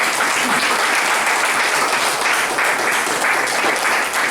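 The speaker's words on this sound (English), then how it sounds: "Let's give our brother ministers another long, strong round of applause." An audience at a religious gathering gives the ministers a long, strong round of applause, loud and dense clapping sustained evenly throughout with slight pulses in intensity.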